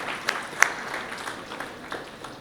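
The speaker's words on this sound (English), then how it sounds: "A big round of applause to top it all" Audience applause in a school auditorium at a Model United Nations ceremony honouring a professor, a steady mid-distance patter of many hands clapping with a few sharper claps standing out, and no voices over it.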